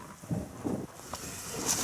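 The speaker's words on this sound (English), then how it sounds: "the wind is still coming straight in" Strong wind on Dartmoor buffets the microphone in a wild camp, giving close, low rumbling gusts and flaps that pulse irregularly throughout.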